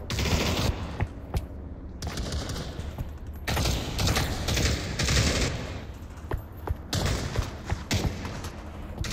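Gunfire rings out in a VR shooter video game played with a gunstock controller: repeated sharp shots and rapid bursts, loud and close, separated by short gaps throughout.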